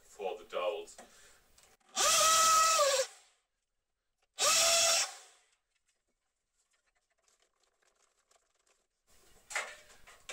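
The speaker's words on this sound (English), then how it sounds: "Now I just start drilling the second hole" Two separate bursts of a power drill whining at high speed into wood, each about a second long, with quiet pauses and faint voices at the start and end.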